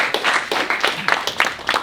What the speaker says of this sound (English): Let's give William a round of applause,